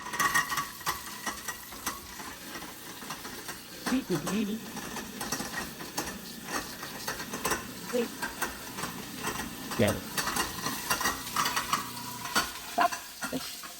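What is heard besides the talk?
garbage disposal running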